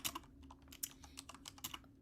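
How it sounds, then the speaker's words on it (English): Loud, close typing on a computer keyboard during a live stream, with the microphone filter removed: irregular bursts of crisp key clicks and clacks, with short pauses between them. "Sorry that the typing is really loud."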